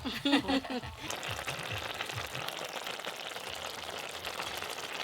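Banana flower fritters (mochar bora) sizzle steadily in hot oil, a dense continuous frying hiss with a brief voice and some stirring clatter at the start before the sizzle carries on alone.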